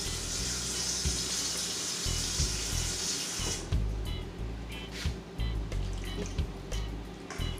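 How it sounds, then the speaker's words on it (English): Water pours steadily into a cooking pot of pig trotters, a close, continuous hissing gush that then gives way to lighter splashing and trickling as the flow eases, with no talking. "I'm going to add enough water to cover it."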